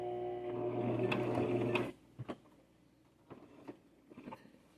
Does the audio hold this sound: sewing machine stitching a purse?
yes